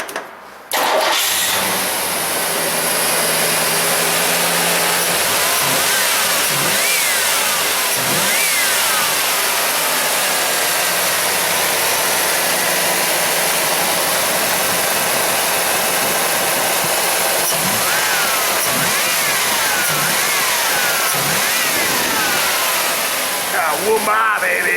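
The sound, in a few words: Firebird Trans Am engine starting and revving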